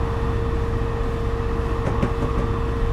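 A steady rail rumble of a train in Train Simulator cruising at around 62 miles per hour toward Oceanside station, with a continuous low drone and a few faint clanks near the end.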